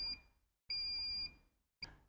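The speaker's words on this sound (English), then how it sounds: "Audibly, the pump will make a continuous beeping sound." A SMARTcare pressure-care pump sounds its audible warning: high electronic beeps repeating in a pattern, one short, one long sustained tone, then another short one, clear and close, with no voices.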